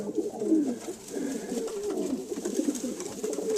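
Racing pigeons coo softly and continuously in a breeding loft, a low rolling murmur of several birds close by with no talk.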